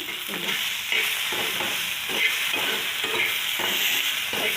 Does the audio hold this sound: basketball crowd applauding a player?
no